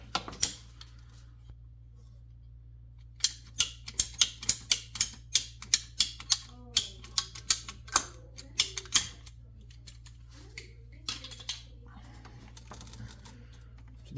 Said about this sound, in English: we're gonna have to cut a little bit more off of this hose